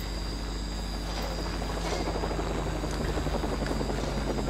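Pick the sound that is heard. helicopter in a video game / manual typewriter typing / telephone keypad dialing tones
helicopter in a video game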